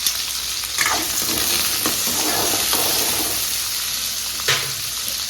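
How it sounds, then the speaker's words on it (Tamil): Cinnamon, cardamom and cloves fry in hot oil in a pan for mutton kuzhambu, giving a steady, loud, close sizzle with occasional scraping stirs and no talking. "இங்கே பாருங்க பட்டை ஏலக்காய் அப்புறம் லவங்கப்பூ அதுவும் சேர்த்துக்கலாம்"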